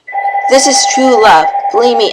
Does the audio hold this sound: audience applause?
no